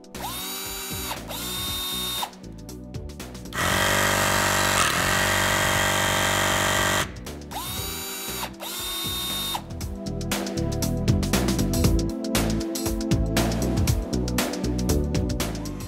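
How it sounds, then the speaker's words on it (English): A Knipex eCrimp electromechanical crimping tool whirs and grinds steadily in bursts, with ratcheting mechanical clicks and a sustained motor drone, close up and fairly loud. "The Knipex crimp is much quieter due to the electromechanical drive"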